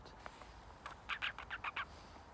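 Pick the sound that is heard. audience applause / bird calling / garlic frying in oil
bird calling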